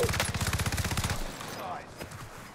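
A light machine gun fires in the Call of Duty Warzone video game, loud and close as a rapid, even burst for about a second, then a quieter tail with gameplay sounds and voices.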